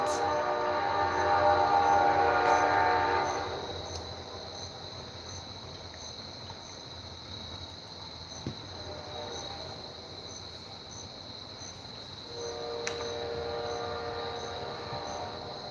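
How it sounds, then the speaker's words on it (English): Train passing at a distance with a horn blowing, a sustained tonal blast at the start, then steady rolling rumble and wheel noise, and another horn blast near the end, all without speech. "the train like went off and it distracted me"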